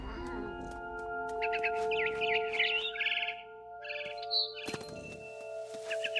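A barn swallow in What Remains of Edith Finch gives quick, bright chirps and twittering bursts over a steady tonal hum of game music, with a few sharp clicks near the end.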